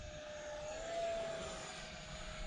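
An Arrows T33 radio-controlled plane flies overhead at a park, its engine a steady, moderately distant whine that rises slightly in pitch and swells as it passes, then eases off, with no talk.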